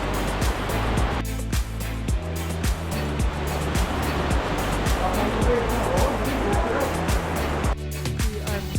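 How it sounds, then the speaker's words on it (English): Fast-flowing jungle river in northern Philippines being waded across, a loud continuous rushing wash of water close by, with periodic thumping knocks and a voice talking over it. "Crossing a river right now. Pretty fast flowing,"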